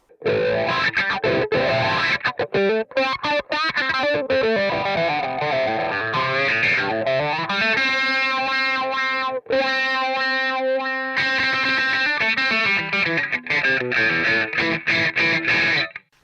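Heavily distorted electric guitar through a Headrush pedalboard, playing chords and sustained notes, loud and saturated, with brief gaps between phrases.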